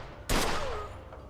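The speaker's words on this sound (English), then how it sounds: "The shooting is low-key realistic. Or at least for video game standards." A single sharp gunshot in the Mafia video game, loud and close, with a short ringing decay fading over about a second.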